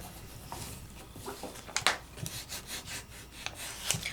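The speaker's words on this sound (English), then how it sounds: "Take the little piece that I pulled off and just rub over it." A hand rubs over a sheet of deco foil laid shiny side up, producing soft, close scratchy strokes in an uneven rhythm with a few sharper scuffs.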